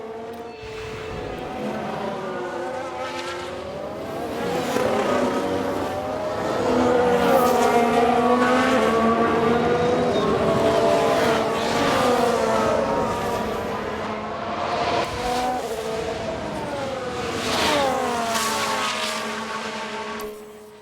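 Racing engines howl and shift pitch in the F1 Manager 22 racing game, a continuous layered drone of several cars with rising and falling whines as one car spins, no talking.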